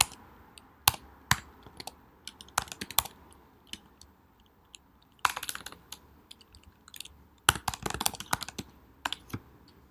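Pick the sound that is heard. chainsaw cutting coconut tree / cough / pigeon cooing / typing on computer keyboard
typing on computer keyboard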